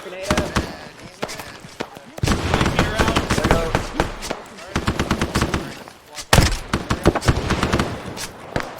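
Heavy gunfire fills a Vietnam 1966 training scenario in the Arma video game, with a loud blast from a thrown grenade amid the steady automatic fire; voices shout over the chaotic, continuous shooting.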